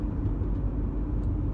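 A car drives along a road, giving a steady low engine rumble and tyre roar from inside the cabin, loud and unbroken with no one speaking.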